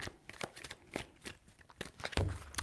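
A deck of tarot cards shuffled up close, several short crackling riffles and taps over a couple of seconds, quiet and without voices.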